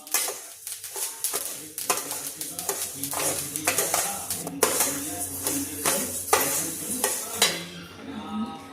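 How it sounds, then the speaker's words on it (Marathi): Sesame seeds crackle and pop in a hot pan over low heat up close, with repeated scraping strokes of a spoon stirring through them. "चांगला असा थोडासा चटपट आवाज वाजला की समजायचे आपले तीळ सगळे भाजलेले"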